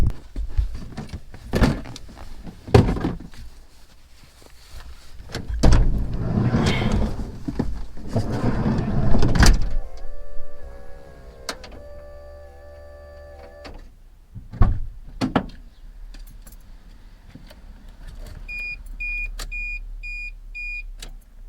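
Electric rear window blinds on a car whir upward in short motor runs. Clicks, thumps and a few beeps come between them in a quiet cabin.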